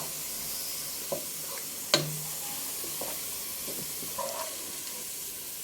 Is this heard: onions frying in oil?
yes